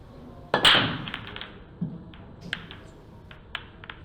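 A cue strikes the balls hard during a pool match, a sharp crack followed by lighter clicks of balls colliding and knocking around the table in a quiet room.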